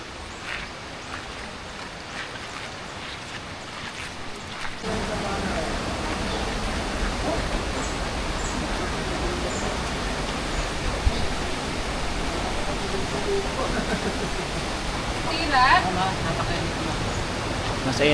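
Ditumabo Mother Falls in the forest near Baler, Aurora: a steady, broad roar of rushing water that swells sharply after the first few seconds and then holds constant and loud, with faint voices beneath it.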